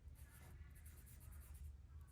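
Pencil scratching across paper in soft, continuous strokes, a close and quiet dry rasp with a steady rhythm over low background hum, no voices.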